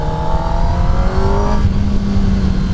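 A 2024 Kawasaki Ninja ZX-10R sport bike engine revs up loud and close, with rising harmonic whines climbing steadily as the RPM builds over a deep, rough mechanical rumble.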